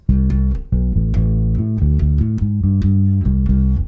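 A bass guitar plays a bouncy riff of plucked notes, clear and close, moving through a short melodic phrase with a steady rhythm.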